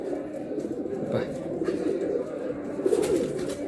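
A female fancy pigeon, of the Andhra or Madrasi type, coos in a low, rolling murmur in a pigeon loft. The sound is steady for a few seconds, and a voice briefly speaks over it.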